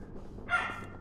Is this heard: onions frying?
no